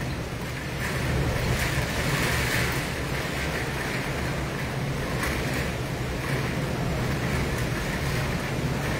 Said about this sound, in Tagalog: Grabe, lakas ng hangin talaga, oh.